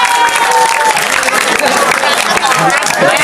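An audience claps loudly and continuously, with dense applause mixed with crowd noise and some cheering.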